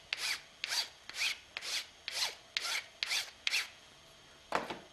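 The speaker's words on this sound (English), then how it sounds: "Start with the rough hand file first. And just keep working at it." Brass tube filed with a rough hand file, about eight even rasping strokes in a steady rhythm, then a pause and one more stroke, close and clear with no talk.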